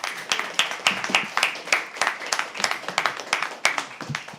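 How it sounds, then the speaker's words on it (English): An open-mic poetry audience claps in a steady, lively burst, many hands striking close together and filling the room without speech. "Can we all clap for them, please?"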